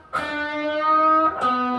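An electric guitar note rings out, then its pitch is pushed up a half step in a bend before a second note is picked and sustained, played alone with a mild effect.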